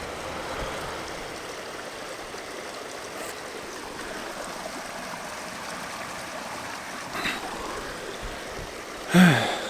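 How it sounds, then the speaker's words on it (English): Creek water running steadily down from a hillside and pouring into a hole, a continuous broadband rush heard up close throughout with no talk, ending in a brief louder splash or knock. "this water coming from way up there on the hill is coming down here and then"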